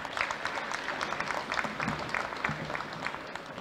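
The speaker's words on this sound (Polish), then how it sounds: "Brawa." Steady applause from the audience at a town council session award ceremony, dense even clapping that fills the room for a few seconds at moderate loudness, with a faint murmur of voices beneath.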